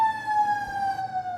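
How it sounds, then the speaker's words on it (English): An emergency vehicle siren wails outside in a steady, slowly falling tone, moderately loud and continuous with no talking over it. "sirens are on our end."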